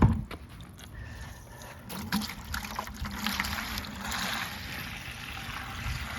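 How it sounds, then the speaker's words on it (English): Water draining from a hot water heater tank into a bucket, a continuous splashing trickle close to the microphone with a sharper burst at the start and small gurgling surges. "there's water coming out and it's draining"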